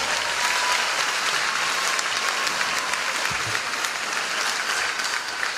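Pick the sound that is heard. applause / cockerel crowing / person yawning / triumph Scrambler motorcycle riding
applause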